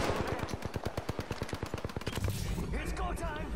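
Rapid automatic gunfire crackles in the Apex Legends video game, a dense burst of evenly spaced shots lasting about two seconds. It then fades into a wash of softer game effects and noise.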